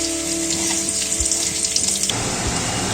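Potatoes fry in oil in a pan with a steady, close sizzling hiss and a few soft clinks, no voices.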